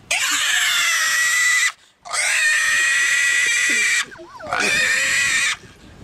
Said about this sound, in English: It's pig squealing time, baby.